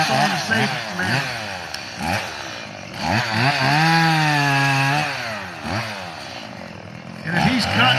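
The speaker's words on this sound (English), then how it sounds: "Make sure to operate the chainsaw in a safe manner." A chainsaw cuts wood at a timber show at a farm festival, its engine droning steadily and rising in pitch midway as the cut proceeds, with someone talking over it in stretches.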